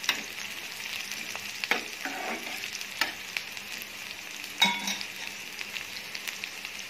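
Chicken chop suey ingredients fry over a medium flame in a pan, producing a steady soft sizzle broken by sharp clinks and scrapes of a stirring utensil against the metal, close up and without speech.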